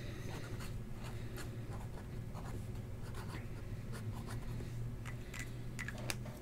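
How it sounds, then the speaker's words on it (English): Pen or pencil writing by hand, faint scratchy strokes in short bursts over a steady low background hum, with no talking. "Let me write that down."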